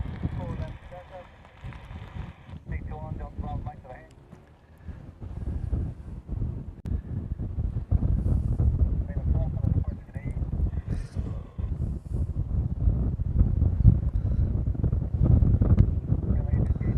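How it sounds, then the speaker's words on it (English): Gusting wind buffets the microphone at an outdoor plane-spotting spot by Honolulu airport, a loud rumbling roar that swells and builds over time, heard under someone talking. "The wind is keeping me semi-cool out here, but it's also blowing everything around"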